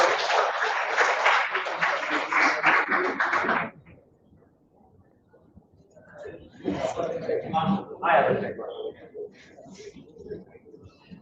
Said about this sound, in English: And we have a round of applause, please